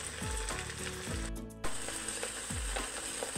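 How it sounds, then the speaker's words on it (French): A potato cake sizzles in a cast iron pan over high heat, a close, steady crackle with a few faint clicks of a utensil underneath. "Là vous entendez crépiter."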